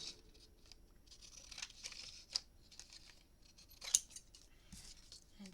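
Scissors cutting material for a memory book box, a soft run of snipping with a couple of sharper snips, close and quiet.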